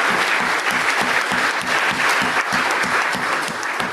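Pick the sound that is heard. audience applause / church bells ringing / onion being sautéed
audience applause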